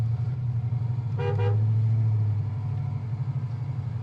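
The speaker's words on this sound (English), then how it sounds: "Horn works." A 1970 Camaro Z28 gives one short, double-pulsed honk of its horn over a low, steady idle.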